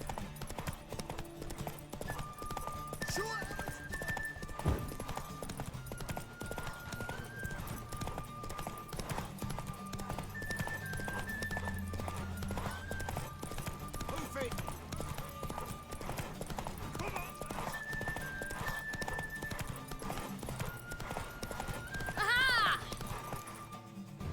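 Steady galloping hoofbeats of a horse in the video game The Witcher 3: Wild Hunt drum on for a long stretch, with a horse's high whinny rising near the end.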